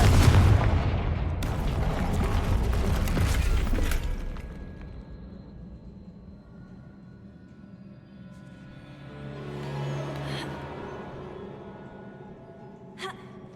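A Confringo blasting spell explodes in the video game Hogwarts Legacy, a loud, rumbling blast lasting several seconds that fades into a low echo, followed later by a softer swelling roar.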